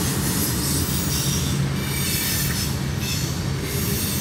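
An eastbound CSX mixed freight train with tank cars rumbles steadily past up close, its wheels squealing and clattering on the rails in a continuous loud roar.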